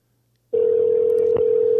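A telephone call tone starts after about half a second of silence and holds as a loud, steady single tone to the end, with a brief click partway through.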